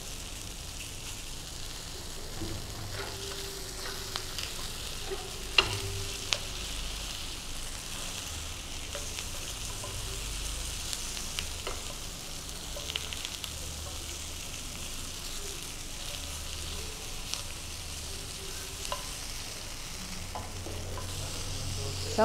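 Tofu frying in a pan over medium-high heat, a continuous soft crackling sizzle with scattered pops and occasional clinks and stirring scrapes, steady and close, with no talk.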